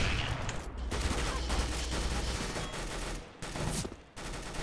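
Rapid bursts of gunfire from Counter-Strike: Global Offensive during the Operation Wildfire event, loud and dense, with overlapping shots and brief gaps near the end.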